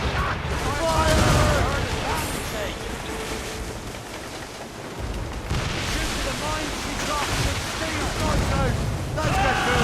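Naval cannon fire in the video game Assassin's Creed Rogue, loud booming blasts over rushing sea and ship noise, with voices shouting in the mix through most of the stretch.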